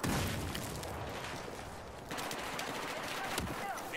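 Dense, rapid gunfire from a first-person shooter video game crackles continuously, fairly faint and mixed with other game noise.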